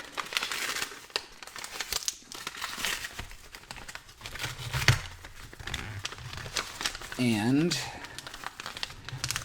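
Paperwork pulled from a package of coins and crinkled, with crisp rustling and crumpling bursts close by under steady conversational talk.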